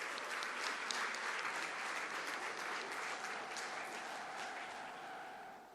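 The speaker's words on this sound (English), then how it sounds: "A score that deserves a round of applause." Sustained applause from a graduation audience at a school ceremony, a steady, moderately faint stream of many hands clapping that slowly eases off, with no speech over it.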